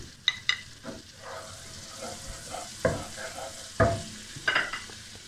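Garlic paste sizzling in melted butter in a pan, a soft steady crackle broken by several sharp scraping stirs and clicks of a utensil against the pan, close and fairly quiet, with no talking.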